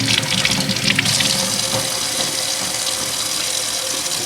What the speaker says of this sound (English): So here is our pill bottle part. We can just give that a little rinse off.